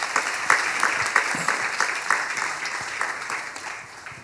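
A conference audience applauds to welcome a speaker at an education forum, a steady wash of many hands clapping with scattered sharper claps throughout, moderately loud and fading slightly toward the end.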